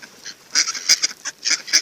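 Several ducks quack and honk in short, loud bursts close by while being fed, the calls clustering in quick groups with brief pauses between.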